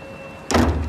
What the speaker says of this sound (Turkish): Açıyorum kapıyı gel